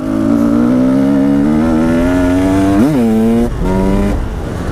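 Husqvarna 300 TE 2016 enduro motorcycle engine revving, a loud close steady drone rising slowly in pitch, one quick blip of the throttle near the end, then a short dip and a return to a sustained rev.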